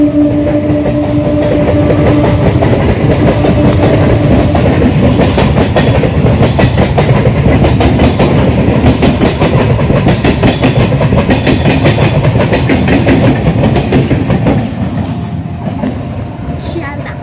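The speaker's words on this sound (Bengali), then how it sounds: "আর ট্রেন আসছে, কত ট্রেন দেখাবো" A local train on the single-track Canning line near Champahati rolls past loud and close. The wheels clatter steadily for most of the pass, and the noise eases slightly as it moves away at the end.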